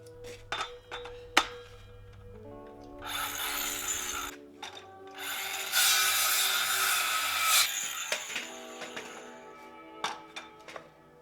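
Repeated rasping strokes of a hand saw cutting wood, in bursts with pauses between, plus scattered knocks and clatter of tools nearby.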